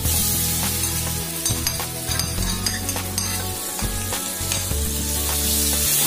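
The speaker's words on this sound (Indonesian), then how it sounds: "Aduk-aduk, tumis sampai benar-benar harum." Spices with bruised galangal and ginger sizzling in margarine while being stirred in a pan for spicy beef tongseng: steady loud frying hiss with occasional scraping and clinks of the utensil, no talking.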